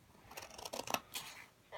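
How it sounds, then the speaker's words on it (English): Scissors snip through paper pages during a cut-paper craft, a few quiet crisp cuts mixed with soft paper rustling, close and faint. "Cut again between those pages."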